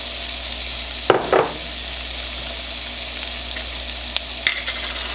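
Sliced red peppers dropped into a hot pan with softened onions for cashew fried rice, a loud hiss and sizzle bursting at the start, then a steady frying crackle with a brief stir-scrape later on.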